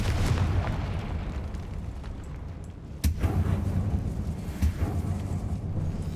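A Confringo fire spell explodes in the Hogwarts Legacy video game inside a decaying catacomb, with a sharp burst near the middle over a dense, rumbling game background and a second smaller blast later.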